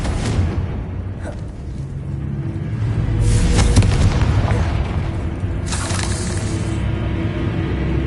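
The fiery Confringo spell bursts in the Hogwarts Legacy video game, producing deep, loud booms over a steady game background rumble, one swelling midway and another sharp blast shortly after.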